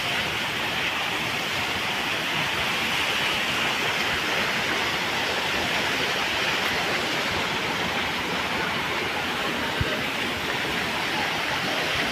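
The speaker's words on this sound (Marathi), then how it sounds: "पाण्याचा फोर्स बघा मित्रांनो" Water rushing forcefully down the steps at Ekvira temple; a loud, dense, unbroken roar throughout, with no voices.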